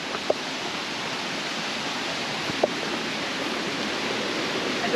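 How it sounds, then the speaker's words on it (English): Steady broadband rushing of river water like a waterfall along a mountain route, constant and fairly close, with a couple of faint ticks over the roar. "Sound like a waterfall."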